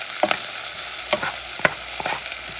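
Garlic sizzles in a hot pan while a utensil stirs it, a steady crackling fry broken by several scraping strokes close up, with no voices.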